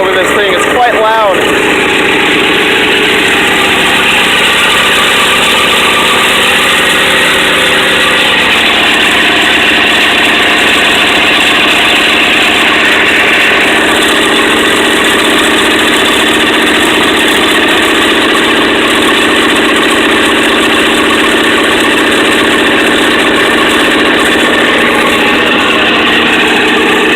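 The old engine of a 1967 Ford Thunderbird idles loudly and roughly on a very cold day, with a slight misfire. The steady, heavy drone runs throughout, and a voice is partly drowned out beneath it.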